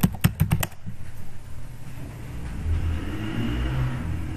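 A quick burst of clattering keystrokes on a computer keyboard, several sharp close taps in the first second, followed by a low steady hum of room noise.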